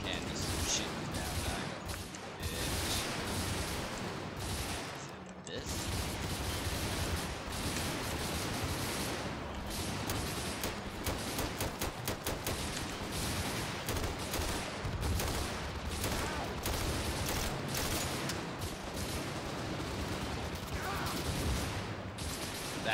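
Defense turrets in Garry's Mod fire in continuous dense bursts of rapid gunfire, loud and sustained throughout with only a brief gap.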